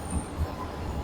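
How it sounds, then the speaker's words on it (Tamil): A metro train passing on the line near Udhayam Theatre at Ashok Pillar in Chennai, a brief continuous rumble with low, rhythmic thumps of the wheels. "மெட்ரோ போயிட்டு இருக்கு பாருங்களேன்."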